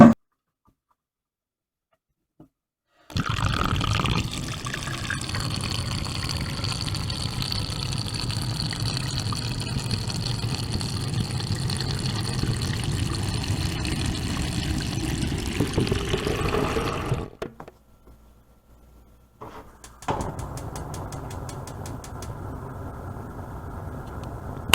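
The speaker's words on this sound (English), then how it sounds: "So we'll start with that by filling up this pan halfway full of water" Water rushes steadily into a pan as it is filled halfway for steaming, a loud continuous gush lasting about fourteen seconds before it stops, followed by a quieter flowing stretch.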